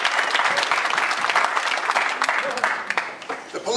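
A political campaign audience applauds fire service workers, a dense, loud and steady wash of clapping that thins slightly toward the end.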